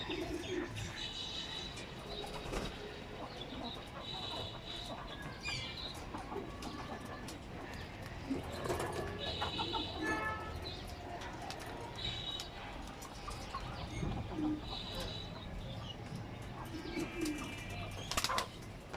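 Pedigreed pet pigeons, including a white grizzle pair, coo repeatedly and flap their wings in bursts close by, with clucking chicken-like calls mixed into a busy, steady loft ambience and brief murmured talk.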